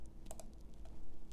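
A few crisp computer keyboard key presses, including the Tab key, sound close by as two quick clicks and then a lighter tap over a faint hum.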